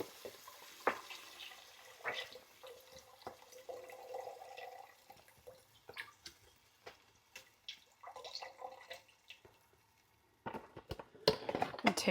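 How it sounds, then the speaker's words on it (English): A quart of beef broth is poured into a hot pan to deglaze it while making Chicago-style Italian beef, heard as faint, scattered splashes and drips in a quiet kitchen. "we're going to deglaze the pan with a quart of beef broth"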